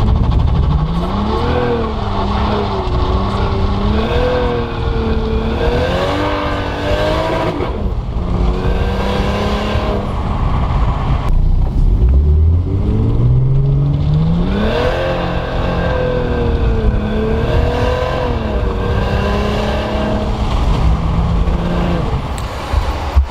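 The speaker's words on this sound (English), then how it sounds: "So I'm gonna go out and drive the car now" A turbocharged Lexus IS300 engine revs and pulls hard through the gears, rising and falling repeatedly with turbo whoosh, loud and close from inside the car.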